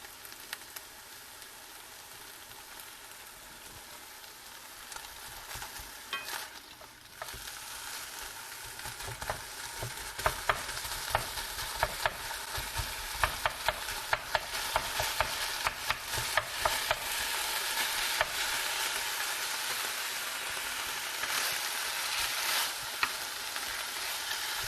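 Ground beef sears in a skillet for taco filling, a continuous crackling sizzle that grows louder and busier after the first few seconds, with frequent scraping and stirring and no talk.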